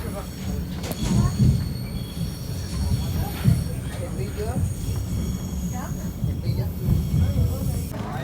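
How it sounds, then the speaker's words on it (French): A train pulls into a station platform in Hue, Vietnam, with a steady rumble, metallic brake squeals and clattering wheels while a recorded announcement and nearby voices talk over it throughout. "Please wait until the train completely stops in platform."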